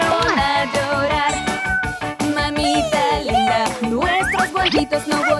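A voice sings a rapid string of cat-like meows over busy music, the imitated meows sliding up and down in pitch.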